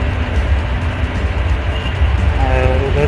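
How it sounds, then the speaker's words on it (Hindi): Dense street traffic rumbles beside metro construction work, a loud, continuous low roar with passing vehicle noise and faint tonal whines near the end. "ये मेट्रो का काम हो रहा है।"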